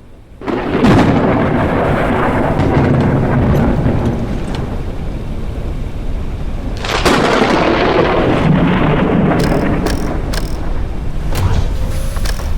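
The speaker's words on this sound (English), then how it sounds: "Crack of thunder." Thunder in the sky-exploration video game Forever Skies rolls in as a loud, close rumbling crack, then fades and returns with a second heavy roll amid a stormy wash.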